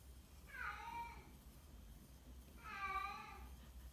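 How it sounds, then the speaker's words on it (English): A house cat meows twice, two drawn-out, slightly whiny calls a couple of seconds apart, faint and a little distant in a quiet indoor room with no one talking. "That's my cat again."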